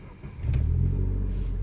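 Renault Clio 3 RS with an Akrapovic exhaust and some Gordini parts, revving up sharply from a low rumble into a loud, sustained engine note, heard up close outdoors.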